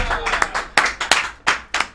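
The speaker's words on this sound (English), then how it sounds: "Give it up for Lydia." A small audience at a live stream event claps in scattered bursts, with uneven sharp hand claps, and voices talk in the room at the same time.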